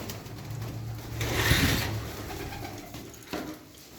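Pigeons coo in a loft, low throaty calls rising to a fuller burst midway and recurring near the end, with soft rustling and a faint background hum.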